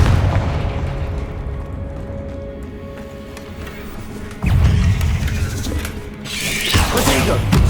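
The Confringo explosion spell in Hogwarts Legacy goes off with loud booming bursts over a dense, rumbling combat soundscape, including a sudden heavy blast midway and a crackling burst near the end.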